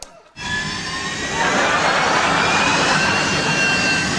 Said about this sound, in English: there's the jet engine in your bathroom. It's actually the fan which comes on when you turn on the light